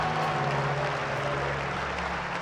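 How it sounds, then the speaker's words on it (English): A church congregation at a Sunday service claps hands together. The dense, continuous clapping holds steady at moderate loudness over a low sustained musical tone from the worship music. "give the Lord a big hand clap"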